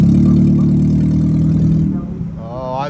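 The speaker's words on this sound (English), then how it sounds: "if you haven't had your catalytic converter stolen, that's what it sounds like" A car with its catalytic converter stolen roars loudly, a deep, raspy, unmuffled engine drone held steady close by, easing off near the end as a voice briefly cuts in.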